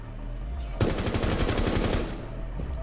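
Rapid automatic gunfire from Rainbow Six Siege rattles out in one loud, dense burst lasting about a second, with quieter game ambience before and after.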